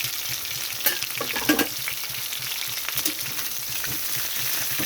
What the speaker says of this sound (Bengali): এখন আমি কপিটা চাপা দিয়ে রাখছি ভাজার জন্য